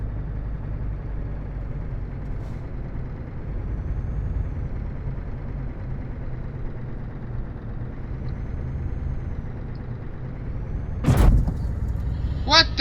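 Dense truck traffic in Euro Truck Simulator 2 during in-game rush hour: a steady low diesel rumble throughout, with a sharp air-brake hiss near the end.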